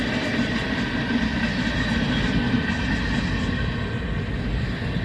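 A slow-moving train heading out of Indianapolis, heard at a crossing as a steady, loud rumble of wheels on rails, continuous and nearby with no talk.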